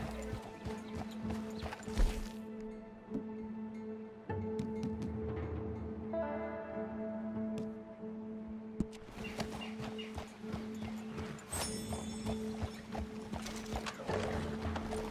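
Hoofbeats of a horse in Red Dead Redemption 2 clop irregularly amid game ambience, with a faint whinny, some creaking and water-like sounds, and brief gaps where the scene quiets.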